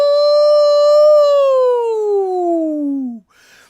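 A single sustained siren wail, strong in harmonics, holds steady and then slides slowly downward in pitch for about three seconds, loud and close, imagined as an alert for COVID wardens, before cutting off into a brief noisy burst.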